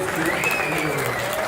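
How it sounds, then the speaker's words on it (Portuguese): Audience applauding after a talk, a steady wash of clapping at moderate loudness with some faint voices mixed in. "O povo aplaudiu, Mark."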